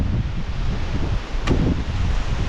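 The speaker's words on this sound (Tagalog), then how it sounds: "Yung hangin." Wind blows steadily across the microphone outdoors while a coconut palm heart is harvested, a constant rushing roar with a brief sharp crack midway.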